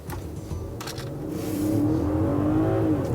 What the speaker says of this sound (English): All right, I'm gonna punch it.